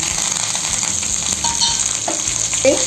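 Dried red chillies, ginger, green chillies and curry leaves fry in hot oil as a tempering for curd rice, giving a loud, steady sizzle with a few stirring scrapes and crackles.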